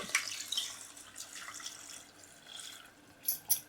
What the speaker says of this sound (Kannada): ಇದಕ್ಕೆ ಸ್ವಲ್ಪ ನೀರು ಹಾಕ್ಬೇಕು